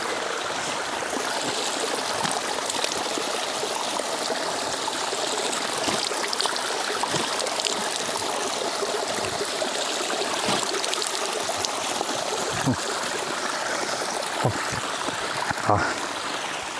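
Steady rushing of a cold flowing stream close by, broad and continuous, with occasional splashes as water is scooped and splashed onto a face.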